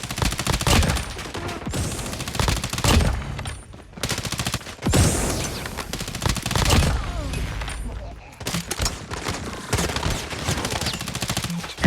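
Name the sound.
gunfire from a Fennec gun in a video game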